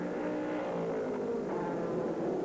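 A 2001 Panoz race car drives past on the track, its engine a steady, fairly distant roar that holds even through the short pass.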